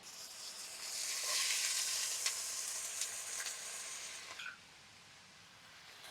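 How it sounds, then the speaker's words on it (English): Ground beef browning in a skillet with onions and peppers for Texas hash, a bright hissing sizzle that swells, carries a few clicks of stirring, then drops away to quiet after about four seconds. "while we're browning our ground beef, I am going to put in my onions and pepper"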